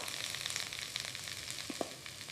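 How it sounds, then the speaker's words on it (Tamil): Cumin seeds fry in hot oil in a pan, crackling and sizzling steadily with small spits and pops, a close, continuous frying sound with no voices. "கடாயில் எண்ணெய் ஊற்றி சூடானதும் சீரகத்தை போட்டு நன்றாக பொரிய விடவும்."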